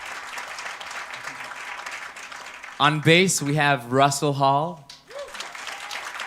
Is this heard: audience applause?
yes